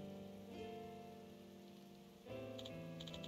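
Rain shower in the video game Like a Dragon: Infinite Wealth, a steady, even patter that swells slightly louder partway through, with tonal game music running underneath.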